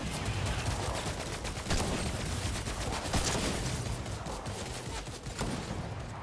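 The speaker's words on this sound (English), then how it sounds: "They got a shotgun." Rapid volleys of gunfire in a Fortnite match, including a shotgun, with repeated sharp blasts packed closely together, loud and near, running throughout with no talk over them.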